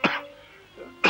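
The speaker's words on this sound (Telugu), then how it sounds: "మళ్ళీ దగ్గు ఎక్కువగా వస్తుందటగా" An old man coughs in two short, harsh bursts about a second apart, close to the listener, with a faint hum in the quiet gap between them.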